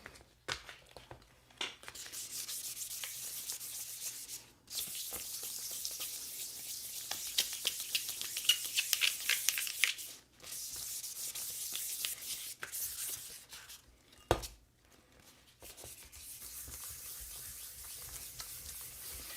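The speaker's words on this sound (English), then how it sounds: "when you start moving to these finer and finer grits, there's spots in the metal that you can totally just feel it kind of slide right off" Fine-grit sandpaper is rubbed by hand over an aluminum part from a vintage motorcycle, making a soft, steady scratching hiss in long strokes, broken by a few short pauses and a brief sharp knock, with no talk.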